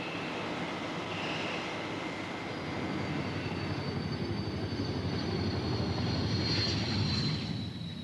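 Hawker Hunter swept-wing jet in flight during spin testing at Boscombe Down, a steady broadband engine roar with a high whine running the whole time, constant and fairly loud.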